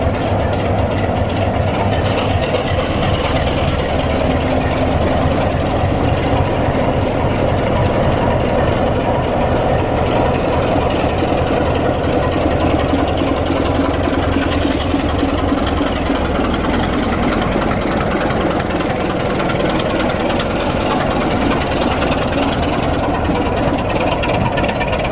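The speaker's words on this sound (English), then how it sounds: "That was a Class 25, little rasping garden shed on wheels" A Class 25 diesel locomotive on the East Lancs Railway idles nearby with a loud, rasping, continuous engine throb and a deep low rumble that holds steady throughout.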